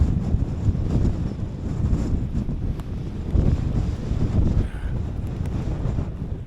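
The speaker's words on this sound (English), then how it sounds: "that wind does have a bit of a bite to it" Bitter cold wind buffeting a microphone at a wild camp in the Lake District, a continuous heavy low rumble with gusts swelling and easing, no voices.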